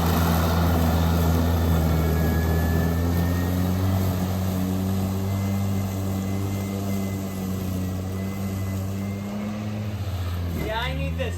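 A Ryobi 40V brushless 21-inch cordless, self-propelled dual-blade walk-behind lawn mower runs with a steady motor whine and blade hum, cutting grass and throwing dirt, with the pitch shifting as it works and turns.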